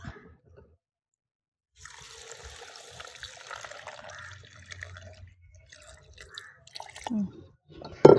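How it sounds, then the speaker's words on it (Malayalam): Water is poured over raw mango, green chilli, ginger, cardamom, sugar and a pinch of salt for mango juice, giving an irregular soft trickle and splash that starts after a quiet pause and ends with a couple of louder knocks. "വെള്ളം ഒഴിക്കുക."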